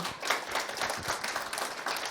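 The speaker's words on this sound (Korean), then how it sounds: "박수 한번 쳐요" A church congregation claps in a short burst of dense, even applause, moderately loud and with no voices over it.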